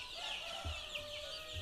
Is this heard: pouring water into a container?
no